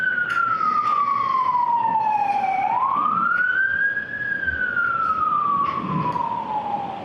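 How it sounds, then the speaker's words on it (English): An emergency vehicle siren wails outside a courtroom, a single loud tone sweeping slowly down, back up and down again, steady and continuous with no voices over it. "let me just let the siren go on"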